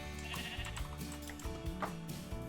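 Sheep bleating in the video game Minecraft, several short wavering baas overlapping one another at moderate distance over a busy backdrop of in-game sounds.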